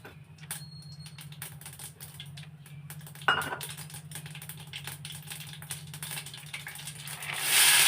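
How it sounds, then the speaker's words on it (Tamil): Mustard seeds spluttering in hot oil as a cooking tempering, a busy stream of sharp close pops and crackles that crowd together and then grow louder and hissier toward the end. "கடுகு பொரிஞ்சிடுச்சு"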